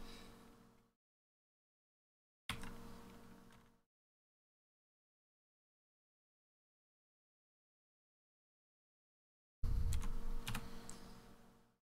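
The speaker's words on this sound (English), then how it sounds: "So I'm just quickly typing something." Short bursts of computer keyboard typing come in three separate spurts with silent gaps between, close and fairly quiet.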